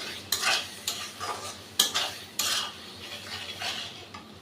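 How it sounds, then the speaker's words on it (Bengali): Masala with turmeric being stir-fried on low flame in a pan for methi chicken, with sharp repeated scrapes and clinks of a spoon against the pan over a faint sizzle. "এটাকে ভালো করে আবার বেশ মশলাটাকে আমি একটু কষে নেব"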